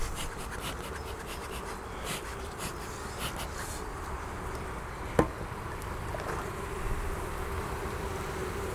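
Honeybees from a strong colony in an opened hive hum as a steady, faint buzz, with light scraping and handling noises and one sharp click partway through.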